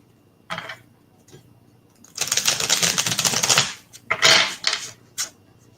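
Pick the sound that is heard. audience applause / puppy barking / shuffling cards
shuffling cards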